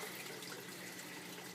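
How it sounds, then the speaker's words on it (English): Water flowing through the swirl filters of an aquaponics system, gravity-fed from below, a faint steady hiss and trickle with no pauses. "Gravity fed from the bottom up to the T, going into both sides of my swirl filters, swirling around, catching poop."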